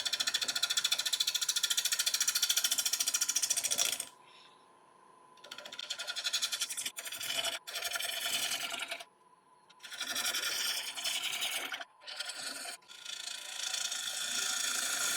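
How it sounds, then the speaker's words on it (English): Irish yew is cut on a woodturning lathe with a 5/8 inch ball gouge at about 700 RPM, a bright scraping hiss in several bursts separated by quiet pauses, close and fairly soft. "So I'll be starting off with a 5/8 inch ball gouge. Current speed is at about 700 RPM."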